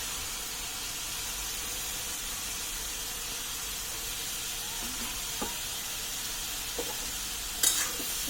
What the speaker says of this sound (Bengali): এটাকে ভালোভাবে এখন মশলার সাথে নেড়ে দিতে হবে